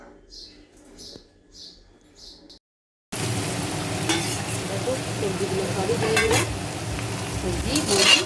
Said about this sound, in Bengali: ভালো করে নেড়ে নিচ্ছি হলুদ আর ধনে গুঁড়োটা